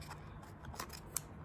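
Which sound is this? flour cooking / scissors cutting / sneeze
scissors cutting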